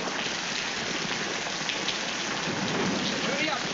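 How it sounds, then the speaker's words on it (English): Heavy rain pours down in a steady, dense, continuous wash with a low rumble beneath it, in a 1940s drama film scene. "Oh, it's raining harder."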